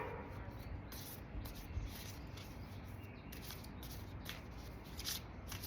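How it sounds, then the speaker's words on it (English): Angel oracle cards are shuffled by hand in soft, continuous riffling and rubbing bursts, quiet and close, with no speech over them. "I'm gonna go ahead and pull an angel card for us now."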